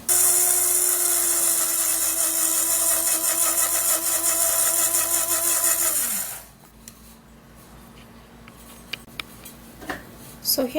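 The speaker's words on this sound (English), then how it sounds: "we're going to be needing a blender, and then I'm going to be blending this aloe vera" A blender whirs loudly and steadily while blending aloe vera, holding a constant motor whine for about six seconds before winding down and stopping, followed by quiet handling clicks and knocks.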